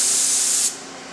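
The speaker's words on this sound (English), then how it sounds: "First thing we're going to do is spray a test pattern." An HVLP spray gun fed from a pressure pot sprays a test pattern with a loud, steady airy hiss that cuts off sharply partway through, leaving quiet background.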